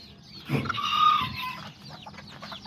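A mother hen gives a run of soft, close clucks in a backyard coop with newly hatched chicks nearby, the calls swelling in the middle and trailing off into quieter murmurs.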